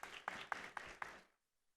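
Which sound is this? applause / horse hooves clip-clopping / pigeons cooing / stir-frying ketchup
applause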